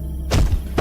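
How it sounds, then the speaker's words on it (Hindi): A heavy blow strikes a big temple door at night, landing as a deep, loud thud after a brief quiet start, with a second fainter knock near the end. "तभी मंदिर के बड़े दरवाजे पर किसी ने जोरदार वार किया"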